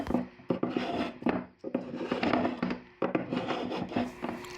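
A spokeshave shaving tight inside curves on a wooden paddle carved from a tree, giving repeated raspy strokes, each several seconds long, with brief pauses between passes.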